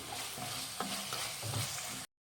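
Egg kurma being stirred in a pot just after salt goes in, a short burst of soft scraping and gentle sizzling with a few spoon knocks, fairly quiet and then cutting off abruptly.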